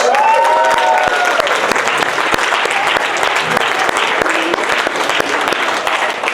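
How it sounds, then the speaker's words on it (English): An audience at a mindset talk breaks into sustained, dense clapping that stays loud and even throughout, with a few faint voices mixed in. "Give yourselves a round of applause."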